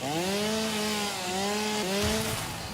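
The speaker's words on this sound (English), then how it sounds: "Any headphone listeners, watch out, because this chainsaw is very loud." A chainsaw in the game Satisfactory runs loud and close, its engine drone rising and falling steadily through the whole stretch with no voices over it.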